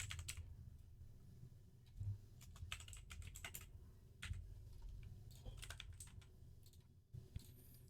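Close, crisp clatter of typing on a computer keyboard while entering a contact in Gmail, irregular quick keystrokes in short bursts with brief pauses between them, no voices.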